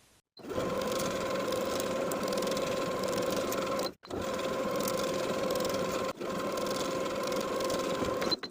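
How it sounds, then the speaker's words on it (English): A sewing machine edge stitches along a fold of elastic shorts, running steadily in long continuous bursts with two short pauses, a close, even mechanical whirring hum. "Now I'll take it to the sewing machine and edge stitch along the upper inner fold"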